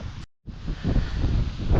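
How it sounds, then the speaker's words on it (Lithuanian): Rumbling wind buffeting close against the microphone, briefly cutting out then returning as a steady low roar. "Slepiuosi nuo vėjo. Vėjas toks normalus užėjo."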